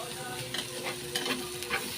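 An egg frying in a home pan, a constant crackling sizzle with small pops and spatters, close and steady, with no one speaking.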